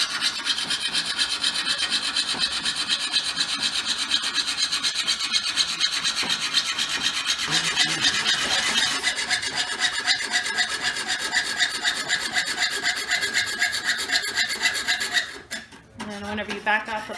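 A hand saw cutting wood in long continuous rasping strokes, bright and scratchy, the blade worked back and forth steadily up close, ending with a few clattering knocks.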